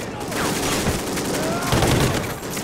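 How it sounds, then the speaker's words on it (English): Gunfire in the shooter game Call of Duty Ghosts comes as a dense, continuous rattle of shots and bursts that stays loud throughout and runs without pause. "Oh, did I just shoot him in the face?"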